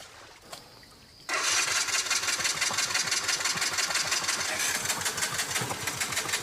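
A motorcycle engine, its exhaust blowing out water, starts after a quiet second and then runs loudly at a rough, rapid idle with a sputtering, gurgling pulse. It is close and steady, with no talk.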